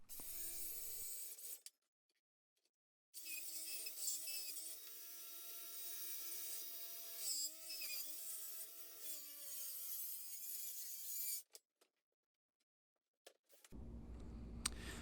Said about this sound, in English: So we're going to rip the sides down.